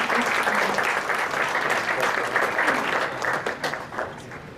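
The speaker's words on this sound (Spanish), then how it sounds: "Es así como pido un aplauso" Audience at a Latin American conference on personal data protection breaks into steady applause, a dense patter of clapping that fades slightly toward the end.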